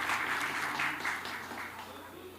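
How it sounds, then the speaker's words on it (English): An audience at a Diwali dinner at the Toronto Vishnu Mandir gives a steady round of applause, a diffuse wash of clapping that slowly fades over the few seconds. "Please, a round of applause for such a hardworking young lady."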